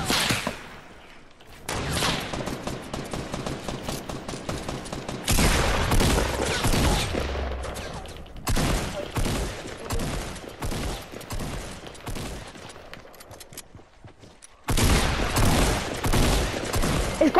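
Rapid automatic gunfire in the video game Fortnite, loud sustained bursts of shots in long stretches broken by brief pauses, with no talking over it.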